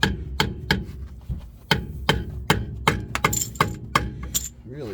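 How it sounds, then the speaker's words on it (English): A hammer strikes a screwdriver tool bit again and again, about a dozen sharp metallic whacks at an uneven pace, near and clear, with no talking. "Let me hammer this thing and then the tool bit can stay in there."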